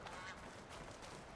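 Duck in the game Horizon Forbidden West, a short, faint honking quack heard once over a soft background.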